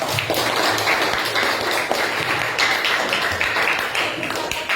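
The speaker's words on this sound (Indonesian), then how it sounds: "Mari, beri aplaus dulu teman-teman" Applause from a primary-school class of children, a dense, steady patter of many small hands clapping throughout at close range, with some voices mixed in.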